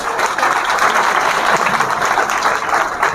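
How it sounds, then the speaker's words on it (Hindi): Loud, dense applause from an audience at an Independence Day student gathering at a coaching centre, a steady roar of many hands clapping close by throughout, with no break. "जोरदार ताली लगाइए इसके लिए एक बार फिर से।"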